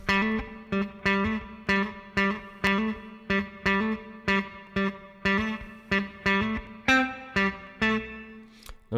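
Funky electric guitar line with effects, played staccato: short, clipped chord stabs in a tight, even rhythm, each cut off quickly, bright and close with no talking.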